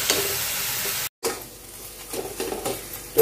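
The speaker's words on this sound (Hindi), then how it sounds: "और इस तरह से मिलाते हुए इसे हम अच्छी तरह से भूनेंगे" Chopped onions sizzle in hot oil in a pan while a spoon stirs them for dhaba-style paneer masala, a steady frying hiss broken by a brief gap and followed by soft scraping strokes.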